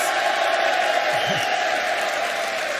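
Crowd cheering and applause at the Ferrari SF-23 Formula 1 launch event is heard steadily from a distance, a soft wash of noise with a faint voice in it.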